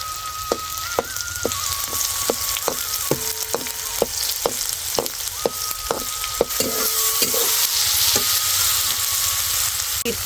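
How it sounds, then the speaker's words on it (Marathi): Cumin and mustard seeds fry and sizzle steadily in a pan while a utensil stirs them, knocking with sharp rhythmic taps against the pan throughout, close and loud, with no talk. "ते अर्धी चमच मोहरी ते आता परतू परतू घेते"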